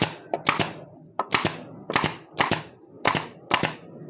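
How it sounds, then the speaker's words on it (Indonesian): A pneumatic nail gun running on an Oiles HL1 air compressor fires six or seven sharp, loud cracks close up, spaced about half a second apart in a steady, slightly uneven rhythm. "Oke, yang pertama kita akan uji untuk paku tembaknya ya dulu ya."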